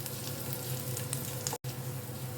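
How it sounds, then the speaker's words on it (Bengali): Garlic and dried fenugreek leaves sizzle in a pan with a steady crackling fry, close and fairly quiet, with a brief dropout partway through. "এটা গন্ধ আসা পর্যন্ত একটু সামান্য ভেজে নেব।"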